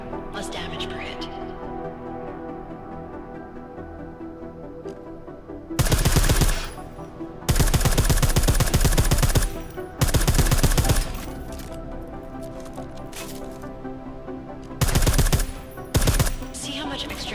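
Suppressed gunfire in Deus Ex: Mankind Divided comes in several loud, dense bursts of rapid shots, each lasting about a second, separated by quieter stretches where someone talks over the game's background sound.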